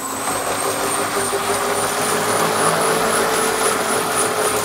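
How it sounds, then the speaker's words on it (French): A steady, continuous mechanical whirring drone with a high whine above it from an Elite Nero bike trainer roller, holding level throughout without pauses. "c'est un rouleau qui génère plus de bruit que certaines bases d'entraînement très silencieuses"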